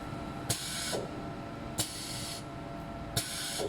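A stator winding machine runs after its start button is pressed, giving steady hissing whirs in repeated bursts, each opening with a sharp click, loud and close.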